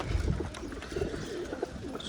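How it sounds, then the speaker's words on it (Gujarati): Pigeons kept as domestic birds coo in low, repeated murmurs, several calls overlapping close by against a steady background hum, with no talking. "જોઈ શકો છો આપણા કબૂતર"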